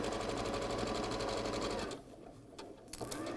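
Sewing machine with a quarter-inch guide foot stitching a quilt seam, a steady rapid mechanical whir for about two seconds that stops abruptly, leaving quiet room noise with a few faint clicks.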